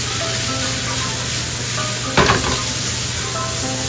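Meat and onions stir-fry in a pan with a steady, close sizzle, broken by a brief scrape of stirring partway through.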